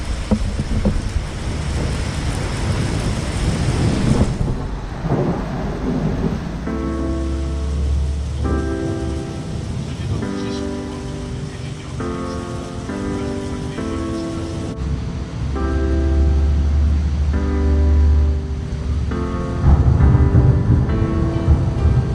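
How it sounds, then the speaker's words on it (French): Heavy rain pours steadily with a low rumble of thunder during an electric unicycle trip from Lyon to Dole, France, while music plays intermittently over the downpour. "il pleut trop là, il y a des orages"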